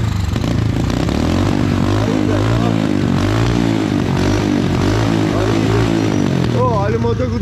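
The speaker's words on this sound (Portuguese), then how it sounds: "Olha o motor que o Dente fez pra mim, a fumaceira que tá" A mini motorbike engine runs loudly and continuously nearby, smoking heavily, its pitch wavering with throttle changes.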